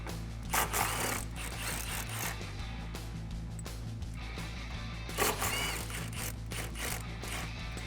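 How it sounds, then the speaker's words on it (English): A swivel socket ratchet loosens the top shock bolts on a 2011-2019 Dodge Challenger, giving steady close clicking with a few louder bursts of mechanical rattling and no talk. "I'm going to use a swivel socket."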